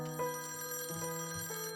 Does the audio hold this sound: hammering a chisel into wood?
no